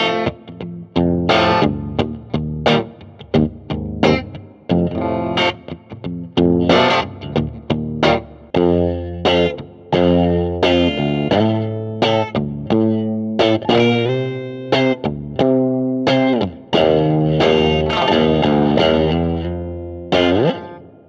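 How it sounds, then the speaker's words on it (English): An electric guitar runs through distortion and chorus effects with reverb added, playing loud, close chords and riffs in choppy bursts with ringing sustained notes. "Yeah, put a bit of reverb on there now."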